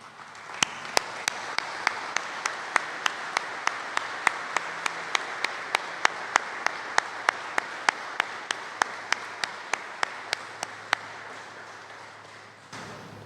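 Graduation ceremony audience applauding steadily for about thirteen seconds, a dense even wash of clapping with sharp individual claps standing out at regular intervals, fading out at the end.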